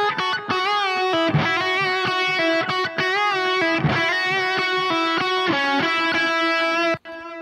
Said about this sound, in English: And it sounds like there's a ton of delay